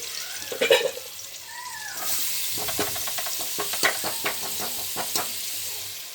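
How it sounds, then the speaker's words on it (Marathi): Chopped onion and tomato sautéing in hot oil in a home kitchen pan for egg rice, a steady sizzle with repeated scraping stir strokes, close and moderately loud, no talking. "तेलामध्ये मस्त छान असा कांदा टॅमॅटो परतून घ्यायचे आहे."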